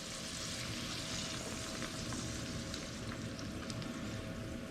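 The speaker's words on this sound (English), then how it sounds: "That's a good sizzle." Yorkshire pudding batter for toad in the hole sizzles in hot fat, a steady crackling hiss that stays loud and even throughout with no voices.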